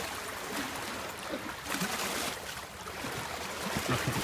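Waves wash against the eroded Lake Michigan shoreline in a steady, close rushing surf with swelling surges and splashes, and no voices over it.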